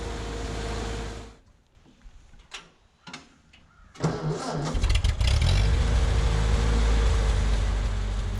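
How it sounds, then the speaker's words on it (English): Vehicle engine in the woods straining to drag a heavy oak log of about 1,200 to 1,300 pounds: after a few brief clunks the engine revs up loudly and holds a steady, spinning roar for several seconds. "A lot of wheel spin."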